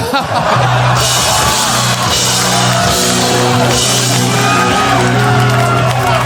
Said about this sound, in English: And the crowd's going nuts.